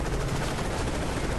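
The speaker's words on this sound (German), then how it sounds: "falls wir diese Schüsse jetzt überleben sollten" Dense, continuous gunfire from Call of Duty Modern Warfare 3, a loud unbroken rattle of rapid shots that fills the whole moment with no pauses.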